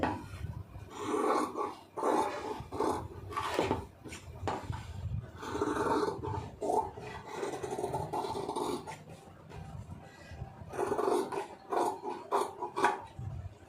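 Scissors cut blouse lining fabric up close, giving a series of short rasping snips and rubbing fabric sounds in uneven bursts with brief pauses between, fairly faint overall.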